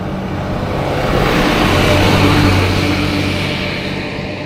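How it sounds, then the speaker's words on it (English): A bus passes close behind a rider on an Andsky Explorer folding fat tire e-bike, a loud broad engine rumble swelling to a peak midway and then easing off. "Let's hope this bus passes."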